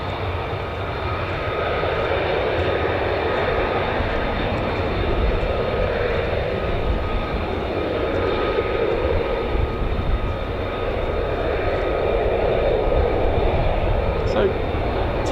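Loud, sustained jet engine roar from an F-35A fighter at RAF Lakenheath, steady and fairly near with slow swells in intensity, as a voice talks throughout.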